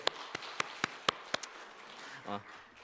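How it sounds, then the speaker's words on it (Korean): Members of a church congregation give a few slow, evenly spaced claps in encouragement, six or seven sharp distinct hits close by, followed by a short spoken voice. "우리 한 번 더 응원하는 박수 한번 쳐드릴까요?"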